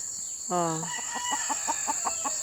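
A white Kelso gamecock crows once up close, a rising drawn-out call followed by a run of short, evenly spaced clucks, with a steady high insect or electrical whine in the background.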